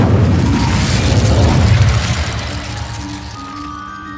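Incendio fire spell explosion in Hogwarts Legacy, a loud deep booming burst with roaring rumble that swells for two seconds and then slowly fades into a lingering tail.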